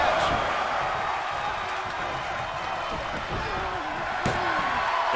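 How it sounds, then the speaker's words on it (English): Body slam from a fireman's carry position in a wrestling video game, landing as a sharp impact amid steady loud crowd noise, with commentary talk running over it. "Lifted up into the fireman's carry position. What a slam."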